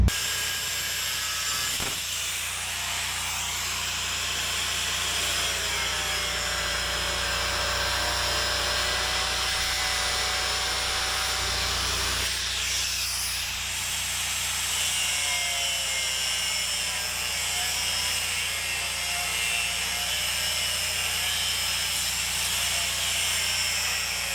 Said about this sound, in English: I'll take the cutoff wheel and cut that out